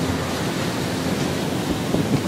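Strong steady wind of around 30 knots roars across the open sea aboard a sailboat near Greenland, a continuous loud broadband rush with no voices.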